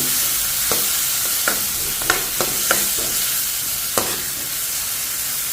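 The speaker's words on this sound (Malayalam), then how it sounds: "നമുക്ക് ബാക്കിയുള്ള പച്ചമുളകും കറിവേപ്പില ഇഞ്ചിയൊക്കെ ചേർത്ത് ഇളക്കാവുന്നതാണ്" Green chillies, curry leaves and ginger stirred in a pan for Kerala-style upma, a spoon scraping and clacking several times in an irregular rhythm over a steady, soft sizzle, close by with no talking.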